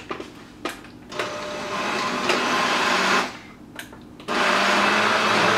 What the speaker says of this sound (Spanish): ahora voy a empezar a batir